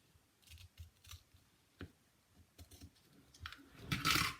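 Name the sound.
cutting with scissors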